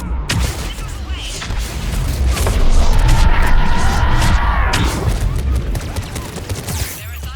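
Missile launches in Mass Effect 3 during the Priority Thessia mission: a dense volley of whooshing blasts and booms that swells and holds for several seconds, with game chatter layered over the barrage.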